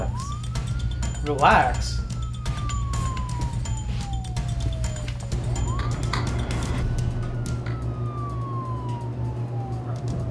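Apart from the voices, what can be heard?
police siren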